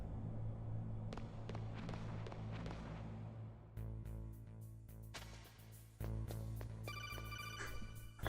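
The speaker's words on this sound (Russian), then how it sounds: "Тут звонит." Codec call ringing in the PlayStation video game Metal Gear Solid, a repeated electronic ringtone with sharp, rhythmic beeps over in-game ambience and tonal music, fairly loud and without talk.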